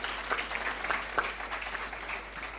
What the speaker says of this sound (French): Est-ce qu'on peut applaudir pour ces deux équipes d'abord?